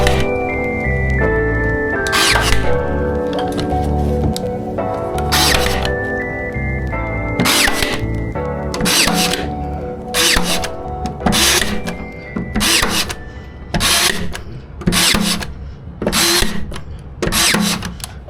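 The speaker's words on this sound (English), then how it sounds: "If anybody can tell me why my Ryobi gun does that, you let me know. It's like a shot and then a miss." A Ryobi nail gun fires in a run of sharp, separate bursts at irregular intervals, some shots strong and others weaker, like misfires, close up over a background hum, with no talking.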